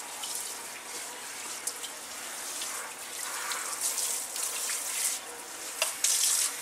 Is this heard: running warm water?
yes